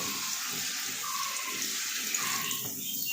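Steady rush of tap water running into a sink during tooth brushing, continuous and moderately quiet, with no talking.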